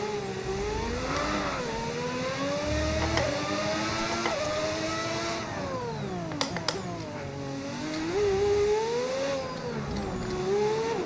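Race car engine in a racing video game at the Singapore circuit, with a continuous whining note that rises and falls through gear changes and a few sharp clicks midway. No one speaks.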